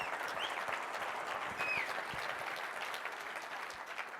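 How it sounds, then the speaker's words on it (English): An audience at a ChefConf 2019 tech conference keynote breaks into dense, sustained applause, a steady wash of many hands clapping with a few whoops, filling the room at moderate distance. "They deserve a giant round of applause."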